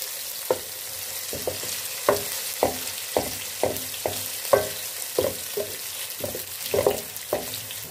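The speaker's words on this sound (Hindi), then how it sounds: "अब इसमें हम लहसुन अदरक डालेंगे और इसको भी हम फ्राई कर लेंगे।" Garlic and ginger frying in a pan, a soft steady sizzle broken by regular stirring scrapes and clicks about twice a second, close and fairly quiet with no talking.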